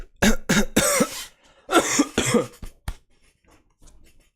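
Several harsh coughs come in two close bursts, loud and near, followed by a few fainter throat sounds.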